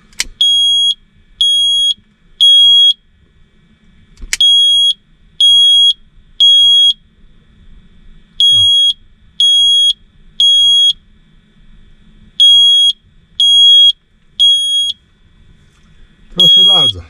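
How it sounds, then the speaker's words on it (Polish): A smoke detector sounds a loud, piercing alarm in repeating groups of three beeps separated by short pauses, close and alone, with a faint thud or rustle at the start and end. "Proszę bardzo, czujnik dymu działa."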